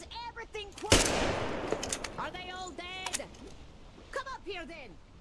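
Gunfire from a weapon in Metro Exodus, one sharp loud burst near the start followed by a few lighter clicks and bangs, with a voice talking over much of it.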